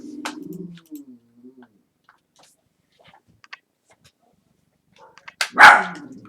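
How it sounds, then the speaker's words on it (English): Dogs bark back and forth with neighboring dogs: a short run of barks at the start, then quiet, then one loud close bark burst near the end. "Having a barking match with the neighbor dogs."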